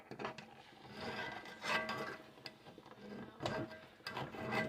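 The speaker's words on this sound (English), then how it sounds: "take a spoon and scrape the bottom" A metal spoon scrapes across the bottom of a pot-roast pot, giving several rough rasping strokes in an uneven rhythm, close and moderately loud.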